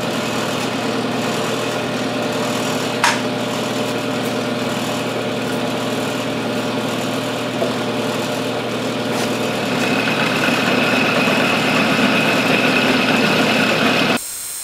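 A metal lathe fitted with a ball turning attachment making a cut, giving a constant mechanical hum and whir with a couple of faint clicks, growing slightly louder before stopping abruptly near the end.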